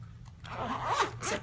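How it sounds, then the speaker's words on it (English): A travel pouch being zipped shut, the zipper drawn closed in one continuous close rasping pull lasting about a second, with a low hum underneath and no talk. "Zips right up."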